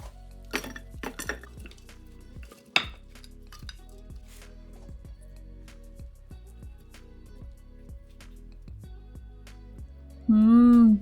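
Pots, plates and utensils clink and tap in sparse, irregular knocks while dum pukht namkeen mutton BBQ is served, close and moderately loud, ending in a brief loud tonal burst.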